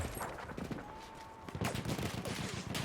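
Bursts of SMG gunfire rattle through a Battlefield 1 match, rapid automatic volleys mixed with distant shots and battle noise, continuous and dense across the moment.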